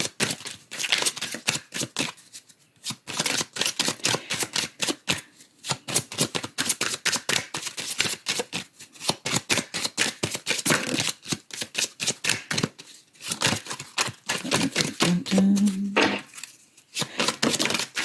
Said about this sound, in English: What I'm shuffling here is the Santa Muerte Tarot. It is a full tarot deck.